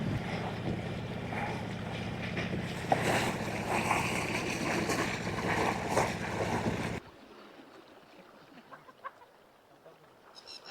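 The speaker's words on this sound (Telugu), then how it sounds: "గాలి అయితే చాలా గట్టిగానే ఉంది" Strong, roaring coastal wind buffets the microphone for several seconds, then drops abruptly to a quieter backdrop with faint scattered sounds.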